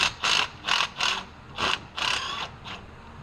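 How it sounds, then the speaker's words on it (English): A hand ratchet turns header bolts during a JBA longtube header install on a RAM R/T Hemi 5.7, giving about seven short, close clicking bursts in an uneven rhythm. "we're probably going to ratchet with that one."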